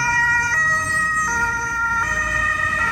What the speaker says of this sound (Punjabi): ਐਂਬੂਲੈਂਸ ਜਾ ਰਹੀ ਆ ਉਹਨੂੰ ਸਾਰੇ ਰਾਹ ਦੇਣਗੇ